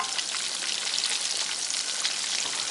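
Polish kotlety frying in a pan of oil, a steady dense sizzle with crackling spatters throughout, close and fairly loud, no talking.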